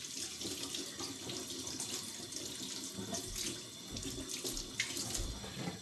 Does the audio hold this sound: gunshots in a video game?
no